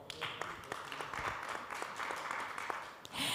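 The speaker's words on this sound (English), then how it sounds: "Let's give him a round of applause as well." Audience applause at a live panel event for a COVID-19 grant report launch, a steady spread of clapping with no speech over it, fairly quiet and distant.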